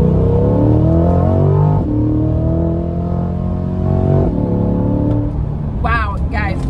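A Corvette Stingray's engine climbs through rising revs in several pulls, loud and close, cutting off near the end as a voice speaks briefly.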